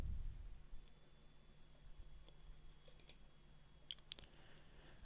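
Computer mouse clicks while working in VS Code, a handful of faint, sharp clicks bunched toward the end over a quiet background hum.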